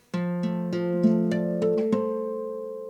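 A guitar chord picked one string at a time in a steady, rising arpeggio, with bell-like harmonic tones ringing out and sustaining together at the end.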